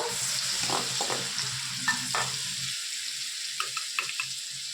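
Prawns frying lightly in a pan for a prawn malai curry, a steady sizzle with stirring scrapes and a few short clinks, no talking.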